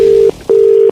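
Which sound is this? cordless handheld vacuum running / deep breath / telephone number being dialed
telephone number being dialed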